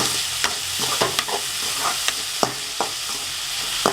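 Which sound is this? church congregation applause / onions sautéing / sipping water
onions sautéing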